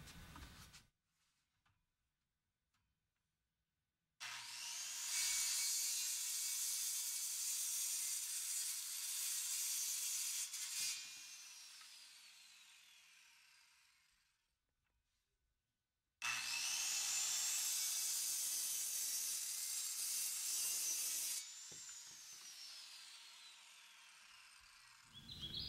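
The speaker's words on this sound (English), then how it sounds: "the alignment pins automatically retract as the saw is lowered to its lowest position, allowing the user to move the saw forward to finish the cut" A self-aligning circular saw with retracting alignment pins cuts through wood in two separate passes, each a loud, sustained high whine that begins abruptly, then winds down, with near silence before and between.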